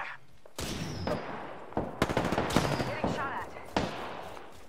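Rapid bursts of Spitfire light machine gun fire during an Apex Legends match, with loud clustered volleys and sharp single shots close by, mixed with in-game voice lines.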